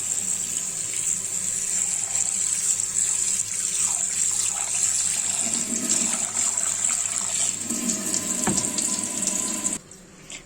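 Rice is washed in water to rinse off its starch, with steady running and swishing water throughout before it stops abruptly near the end.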